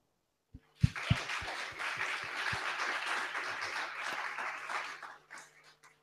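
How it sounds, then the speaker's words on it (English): An audience claps for writers welcoming them onto the stage at a writers festival event, starting with a few sharp individual claps that swell into steady, dense applause, then taper off near the end. "giving a round of applause to our wonderful writers here today"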